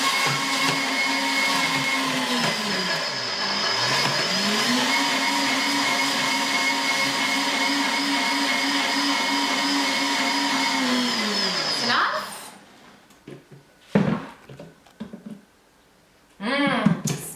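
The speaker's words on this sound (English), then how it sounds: "Okay, let's get this blended." A blender whirs steadily for about twelve seconds, pureeing a jerk marinade with lime juice, with its motor pitch dipping briefly under load before it stops, followed by a few clatters and handling noises.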